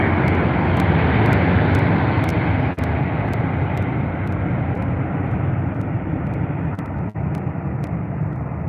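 A Qantas Airbus A380 airliner at Heathrow roars loudly and steadily, a broad, continuous jet rumble that fills the whole clip with no voices over it.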